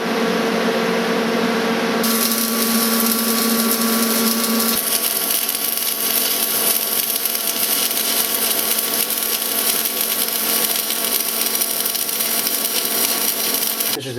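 R-Tech AC/DC 200 amp inverter welder running a test bead with a new rod on cool metal at 75 amps and arc force set to zero, giving a loud, steady crackling hiss that holds without a break.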